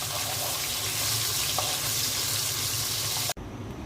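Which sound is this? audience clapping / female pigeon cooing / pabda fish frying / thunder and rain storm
pabda fish frying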